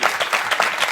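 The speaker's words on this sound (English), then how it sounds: "Give this brother a round of applause." A studio audience claps in a brief, dense burst of applause, many hands at once, close and fairly loud with no talk over it.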